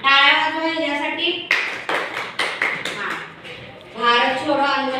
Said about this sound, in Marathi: टाळ्या वाजवा यासाठी